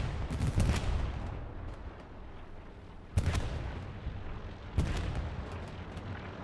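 Artillery shells slam into a tank on a video game battlefield, three heavy booming impacts a second or two apart, with rumbling combat noise filling the gaps.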